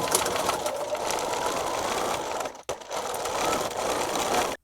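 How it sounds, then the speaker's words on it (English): A sewing machine runs a half-inch seam on a kitchen towel topper, a close steady whirring hum in two long bursts separated by a brief stop. "We're now going to sew both sides of the topper with a 1/2 inch seam."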